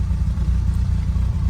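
Carburetted Lotus Elan engine ticking over at idle, a deep, even throb with faint pulsing irregularity, heard up close and uninterrupted with no voices.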